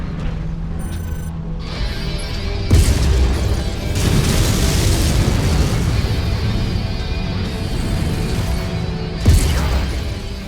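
Explosions boom in a MechWarrior video game as a target is destroyed, loud heavy blasts standing out over a continuous mechanical rumble, with a second sharp boom near the end.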